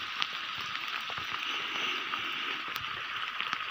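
Steady rain falls at a rainy mountain campsite, a constant hiss with scattered drop ticks and patters, fairly faint and close, with no talking.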